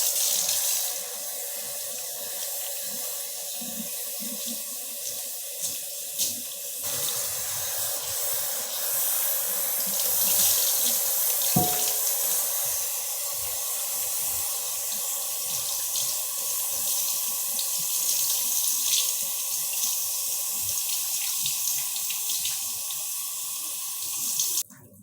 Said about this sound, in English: Now I'm ready to rinse the first shampoo off.